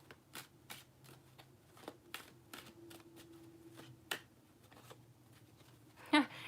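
Tarot cards being shuffled by hand, a quiet series of crisp riffling snaps and soft shuffles at irregular intervals, close and faint, with a sharper flutter near the end and no talking.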